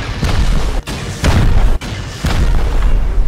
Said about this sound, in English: Let me shoot the rocket.